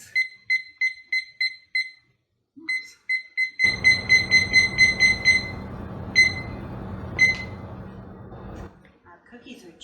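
A kitchen timer set for baking chocolate chip cookies goes off with a quick run of loud, evenly spaced beeps. The beeping keeps going over a steady rushing noise nearby.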